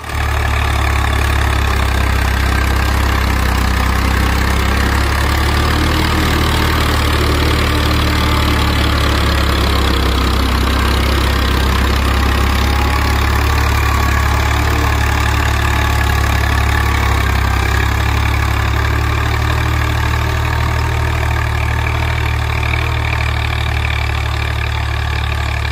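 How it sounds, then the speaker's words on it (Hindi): A 1996 Swraj 735 tractor with a 39 HP engine labours under heavy load in a field, its low, steady engine drone loud and continuous throughout, with no talk. "ये देखो अपना स्वराज 735 1996 मॉडल, तोते पे चलते हुए 5 का तोता है"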